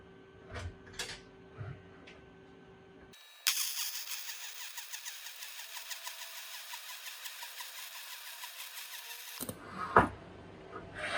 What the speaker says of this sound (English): now that weld is complete, all I did there was make sure I had a forward progression in the uphill position, and I had a push with my MIG gun